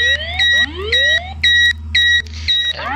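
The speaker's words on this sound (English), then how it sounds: "There has been a fire alarm reported in the building." A fire alarm in the Roblox video game sounds loud and close, with repeated electronic beep bursts and rising whoop sweeps in a steady pulsing pattern.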